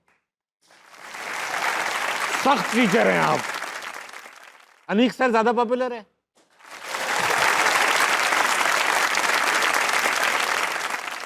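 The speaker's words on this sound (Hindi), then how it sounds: "आपको लगता है अगर ज़्यादा पॉपुलर हो तालियां बजाइए" A studio audience at a comedy talk show claps during a popularity test, with one loud burst of applause, then a short stretch of speech and laughter, then a second long round of clapping.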